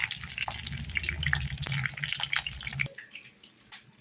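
Marinated chili chicken deep frying in hot oil, a dense, steady crackle and bubbling close by that cuts off abruptly near the end, leaving only faint quiet noise.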